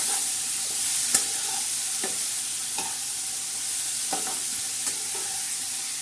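Green beans frying in red masala are stirred in a pan, a steady soft sizzle broken by a few light scrapes and taps of the spoon, with no talking.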